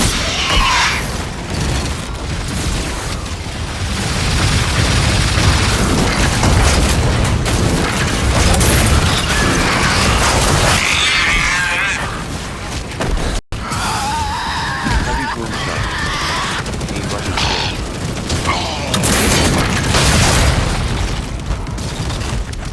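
A heavy Boomshot weapon fires in Gears of War E-Day multiplayer, deep repeated booming blasts amid loud chaotic combat noise and mechanical clatter, with voices calling out over the action.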